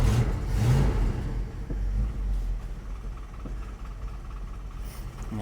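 A 1973 Dodge D100 truck engine runs rough on a little choke, producing a close, loud low rumble with uneven revving surges, with no talking.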